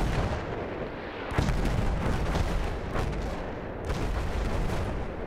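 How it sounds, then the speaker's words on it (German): Dreadnought battleship guns firing in Battlefield 1, heavy booming blasts rolling out with deep rumbling tails, two big thumps standing out amid continuous low thunder of the barrage. "wir koordinieren die Schüsse der Kampfschiffe"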